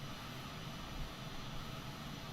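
Jet airliner engines at full thrust in Microsoft Flight Simulator 2020, a steady, faint, broadband roar with a low rumble, continuous and even with no talk.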